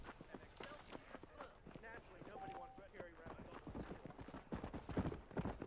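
Steady clip-clop of horse hooves trotting, with a brief whinny, under continuous Red Dead Redemption game music and effects; moderately loud and close.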